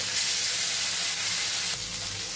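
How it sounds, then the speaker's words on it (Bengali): A loud, steady sizzle of fish frying in oil, a continuous close hiss that eases slightly near the end. "এই দুটো মাছও ভেজে নিচ্ছি একইভাবে।"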